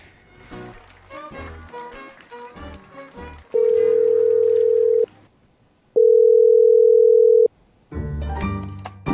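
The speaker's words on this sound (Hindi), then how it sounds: "कहाँ बिजी है ये, फोन नहीं उठा रही।" A phone call goes unanswered: two long, loud steady ringback tones sound in turn, with musical sounds before and after them.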